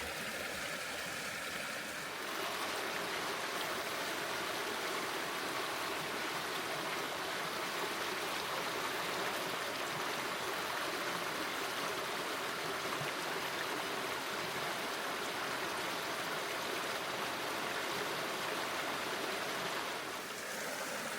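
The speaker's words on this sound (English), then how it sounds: "it's pouring down pretty good now" Heavy rain pours down outside a bike cabin during a storm, a dense, steady roaring hiss that holds for the whole stretch with no voices.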